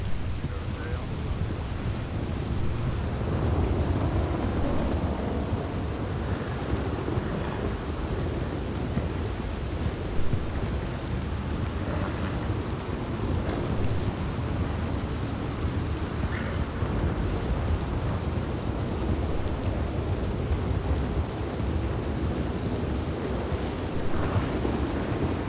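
Constant heavy rain with low thunder rumbling beneath it plays out in Red Dead Redemption 2, an even, dense wash of downpour lasting throughout without speech.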